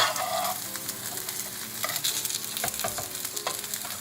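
Chickpea semolina cutlets sizzle steadily in a hot frying pan, a close, continuous crackling fry with scattered pops and a faint stirring scrape, no voices.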